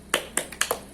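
A small group of pregnant women in a health class performs a short rhythmic clapping chant, a handful of crisp separate claps in quick succession, close and clear over a quiet room.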